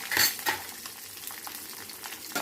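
Mustard seeds, spices and garlic tempering in hot oil in a pan, a close crackling sizzle with a few scraping stirs and light utensil clinks, no talking.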